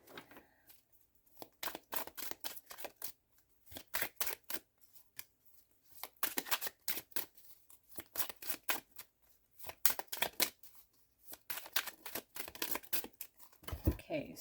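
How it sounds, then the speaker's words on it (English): Tarot cards shuffled loosely by hand, giving a run of crisp, rapid riffling and slapping bursts with short pauses between them, close and fairly quiet with no talking. "Sloppy shuffle"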